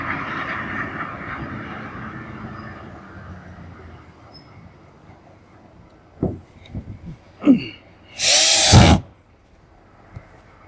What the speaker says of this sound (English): we're going to go ahead and set a couple of screws in this one just to hold it in place